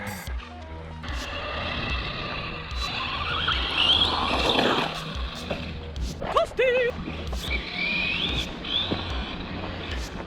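Arrma Typhon RC car racing fast over sand at about three-quarter throttle, a continuous buzzing motor whine with skids and a couple of knocks, heard from nearby with voices talking over it.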